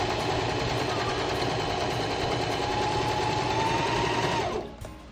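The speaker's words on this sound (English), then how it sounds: "got a nice neat stitch going on there. Bobbin's still going." Sewing machine stitching fabric for a simple sundress, a loud steady rapid mechanical whirr running continuously for about four and a half seconds before it slows and stops.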